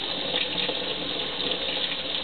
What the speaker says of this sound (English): If I put this under cold water